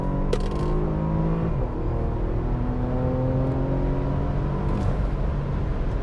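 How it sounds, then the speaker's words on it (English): A 2017 Porsche Macan S in sport mode accelerates from inside the cabin, its engine and exhaust note droning steadily with rising and shifting tones through gear changes, loud and continuous with no talk. "Hopefully you can pick that up off of my lapel mic as far as the change to the exhaust note."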